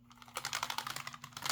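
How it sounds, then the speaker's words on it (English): Rapid, close-up typing on a Redragon K618 low-profile mechanical keyboard, a quiet but steady patter of individual key clicks with no talking. "It's really nice low profile keyboard."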